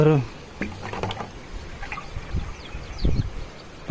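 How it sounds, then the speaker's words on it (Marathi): A water pot being dipped and filled in a farm pond, with scattered gurgles, splashes and drips, fairly faint and close, over a quiet outdoor background. "बघा ही घागर भरत आहे तलावामध्ये."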